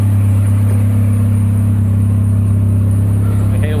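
A Mini's 998cc engine runs on a dyno, a loud, steady low drone with a constant hum and no clear revving, close and unbroken throughout.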